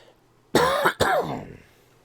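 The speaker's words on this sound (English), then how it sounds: "Pardon my coughing." A man coughs twice in quick succession, a harsh close burst followed by a second rougher cough that trails off, heard alone in a quiet room during a Lost Odyssey gameplay session.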